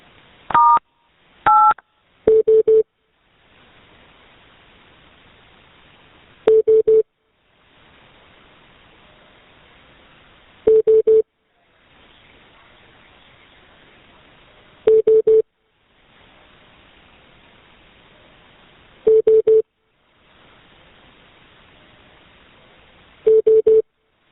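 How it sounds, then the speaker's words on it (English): Telephone dialing tones sound for a callback on an emergency call line. A few short dual-tone keypad beeps come first, followed by evenly spaced ring tones separated by long quiet gaps, clear and close. "The phone is dialing."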